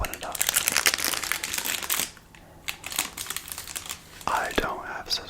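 Crinkly plastic chocolate wrapper being crumpled and pulled open up close, with busy rustling bursts, a brief quieter pause, then more crackling handling.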